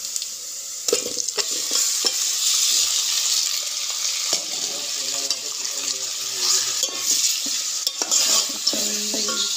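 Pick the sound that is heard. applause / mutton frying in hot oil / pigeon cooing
mutton frying in hot oil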